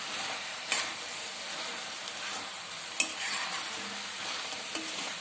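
Chettinad chicken fry stirred in a hot pan, with a steady sizzle of frying under scattered clinks and scrapes of the spoon against the pan, close and even throughout.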